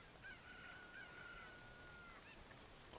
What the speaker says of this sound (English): Chicken noises.